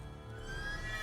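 A horse neighs in The Witcher 3, a short whinny sounding close and fairly loud over a steady game ambience, with no talking.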